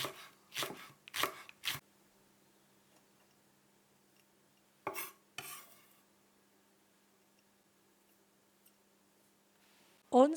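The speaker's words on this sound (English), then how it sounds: "Mince a spring onion." A knife mincing spring onion on a cutting board: quick bursts of sharp chops, three near the start and two more midway, separated by quiet pauses, with another knock at the end.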